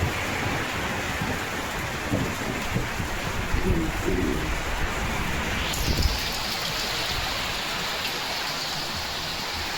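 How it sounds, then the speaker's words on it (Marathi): Steady, heavy rain pours outdoors during a thunderstorm with lightning, a dense continuous hiss with a few low, dull rumbles rising briefly near the middle; no voices. "कसल्या विजा चमकत यो"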